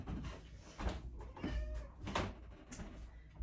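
A house cat meows a few faint times nearby in a quiet room during a restorative yoga session.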